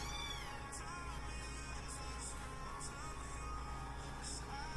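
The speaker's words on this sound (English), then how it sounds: "Sorry if there's a lot of cat noise in the background, guys." Several kittens meow faintly in the background of an indoor room, thin high cries repeating now and then over a steady hum.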